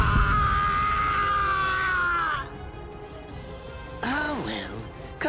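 A man screams in pain in the video game Bleach Rebirth of Souls, a long strained cry over game ambience that cuts off partway, then a wavering groan follows.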